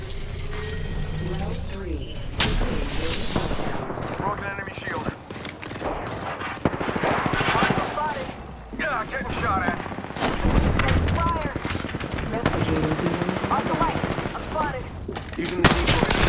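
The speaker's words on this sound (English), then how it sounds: "Yeah, getting shot at." Rapid gunfire in the video game Apex Legends, bursts of automatic weapon fire and mechanical weapon clatter running almost continuously, loud and close, with game voice lines and a player talking over the shooting.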